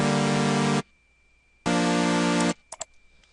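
Two sustained Native Instruments Massive synth pad chords with a hissy white-noise edge, each cut off abruptly with a short silence between, followed by a few faint clicks.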